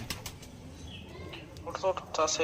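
Pigeons coo and call in short bursts alongside a person talking, with faint rustling in the background.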